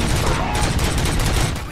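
Gunshots in the video game RoboCop: Rogue City, a dense, loud, continuous volley of rapid fire filling the whole moment with no pause.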